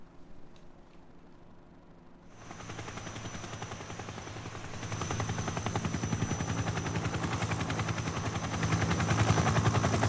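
A helicopter in Metal Gear Solid 3 comes in suddenly after a quiet stretch, a loud, steady rotor roar with a rapid chopping pulse that swells louder toward the end, no talk over it.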